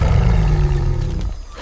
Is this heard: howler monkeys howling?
yes